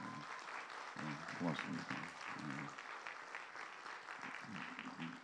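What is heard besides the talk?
congregation applauding in encouragement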